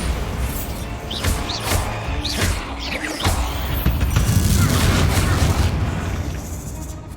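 Bombarda blasting spell in the Hogwarts Legacy video game, with repeated booming impacts and crashing debris bursts in a dense, loud, continuous game mix.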